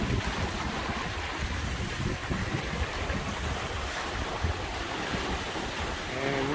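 Wind rushes and waves wash steadily around a sailboat under sail in about 18 knots of breeze on Lake Michigan, a loud, continuous blowing hiss with sloshing water.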